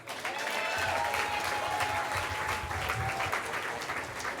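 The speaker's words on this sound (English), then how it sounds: "Big round of applause for Hannah" An audience applauds as a performer comes up at a live storytelling show, steady clapping with faint cheering and whistles mixed in, heard from slightly back in the room.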